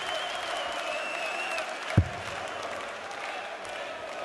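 German darts fans in the arena at a 2016 International Darts Open quarter final applaud and cheer in a steady, dense wash of clapping and crowd noise, with a single dull thump partway through.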